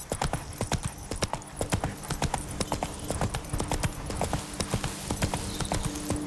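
Roach, a horse in The Witcher 3: Wild Hunt, gallops in a rapid, steady clip-clop of hooves, close and loud, with a few faint game sounds beneath.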